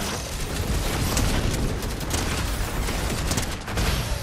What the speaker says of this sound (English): Auto turret. Scared him off.